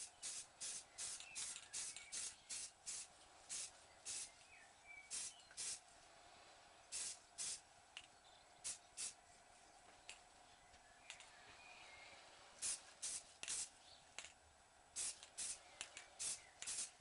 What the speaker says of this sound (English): we're going to use the spray paint, and we're going to spray just very quickly up here